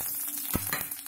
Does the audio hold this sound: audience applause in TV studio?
no